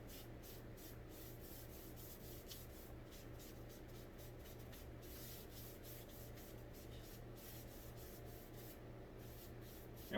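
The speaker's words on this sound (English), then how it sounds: "you can come back and wipe it like I'm doing now" A rag wipes oil across a heart pine kitchen island, giving a soft, steady rubbing and swishing at low volume. The strokes repeat evenly and close by for the whole stretch, with no talking.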